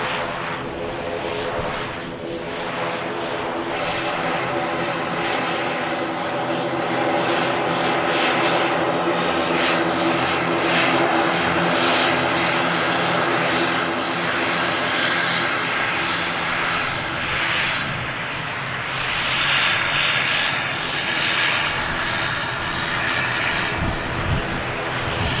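Aircraft engine roaring at Manchester Airport, a loud sustained propeller-driven drone with a shifting, pulsing tone that swells and holds steadily throughout, with no talk over it.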